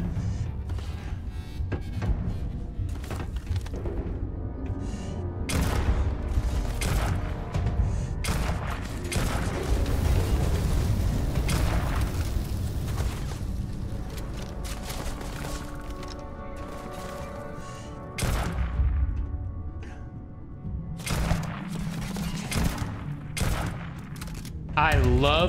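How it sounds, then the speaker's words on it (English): Sustained enemy gunfire in a Starfield firefight, with dense bursts of shots, crashes and impacts rolling on almost without pause, loud and close throughout. "Why are they still firing at me?"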